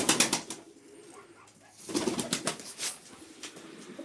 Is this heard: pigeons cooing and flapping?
yes